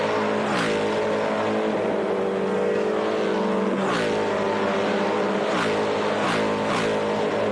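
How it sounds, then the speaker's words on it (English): Loud S5000 open-wheel race car engines roar and rev during qualifying at The Bend Motorsport Park, with repeated bursts as cars scream past close by, one after another. "So many people commented yesterday saying we love the noise of these S5000 cars"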